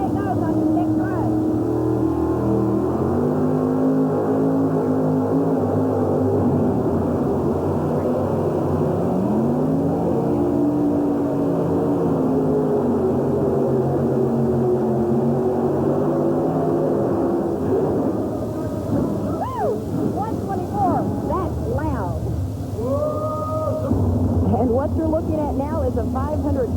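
Modified truck-pulling engine at the Capital Centre indoor arena in Landover, Maryland, roaring loud and steady throughout with shifting pitch as it pulls, rising in revs near the end, crowd and announcer voices buried beneath.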